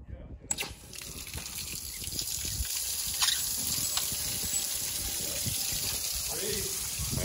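Water gushing steadily from an opened valve into a hose, starting after a brief pause and building to a continuous rushing flow, close and moderately loud, with occasional voices and handling noises.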